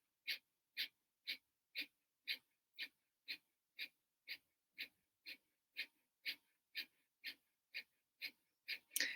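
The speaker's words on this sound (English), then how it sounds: "I don't know if you can hear me doing the breath of fire." Quick, sharp nasal exhalations of breath of fire breathwork repeat in a steady, even rhythm, about two per second, close and fairly quiet, with no talking.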